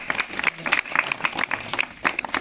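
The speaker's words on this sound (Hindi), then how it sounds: "तो इनके लिए भी एक ज़ोरदार ताली यहाँ बजा।" A live audience claps together at a community gathering, with quick irregular claps coming in bursts at a moderate distance for a couple of seconds, no voices over it.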